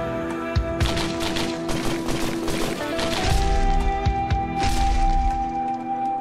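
Rapid video-game gunfire as enemies are shot in a Linux indie action game, dense cracking bursts layered over steady game music and effects, loud and continuous throughout.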